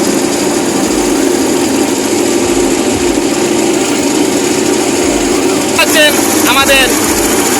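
A motor boat engine drones steadily as the boat pushes against the current on a monsoon-swollen Hakaluki haor crossing, close and continuous, with brief chirping bird calls near the end.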